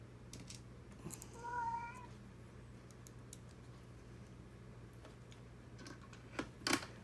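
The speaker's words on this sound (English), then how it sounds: "My cat loves talking." A talkative house cat gives a short, fairly close meow with a faint tonal rise, followed by scattered small ticks and taps over a steady low hum.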